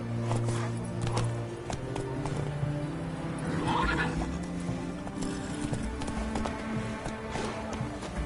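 Roach the horse trots in The Witcher III video game, with rhythmic hoof clip-clops close by and a whinny partway through.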